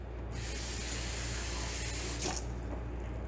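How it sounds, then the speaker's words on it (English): Water runs steadily from a tap into shepherd's pie ingredients with butter in a continuous splashing hiss, with a brief surge near the end; no one speaks. "And then you add a little bit of water."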